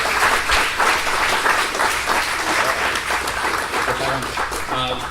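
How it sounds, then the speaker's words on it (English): An audience at a presentation on soil bursts into sustained applause, a dense, loud clapping that holds steady for the whole stretch with a faint murmur of voices beneath. "Let's give a round of applause for Doug in the Shed."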